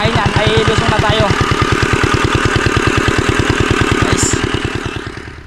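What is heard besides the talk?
farm machine engine running in rice field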